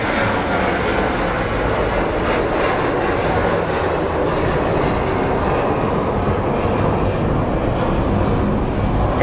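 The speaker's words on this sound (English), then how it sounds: "A321, taking off." A Delta Airlines Airbus A321 takes off at Phoenix Sky Harbor International Airport, its engines giving a loud, continuous roar that holds steady with no pauses.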